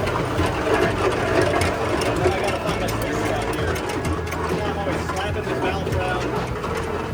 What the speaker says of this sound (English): let's go ahead and get that ride on a steam engine